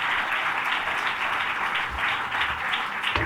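An audience at a Seattle business breakfast claps steadily for several seconds, a dense, even patter of many hands at moderate loudness with no talking over it.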